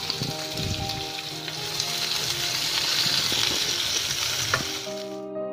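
Chopped onions with fennel seeds and cinnamon sizzling in hot oil in a pan for a Tamil egg drop curry, with a loud, steady crackling fry, a few stirring clinks and a sudden stop at the end.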